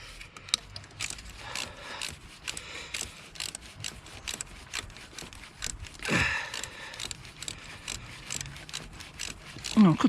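An Alfred ratchet socket wrench clicks in rapid runs of pawl ratcheting while working on a 2009 Mercedes-Benz W204 C200 engine during a thermostat replacement, with a brief clunk midway and talk in places.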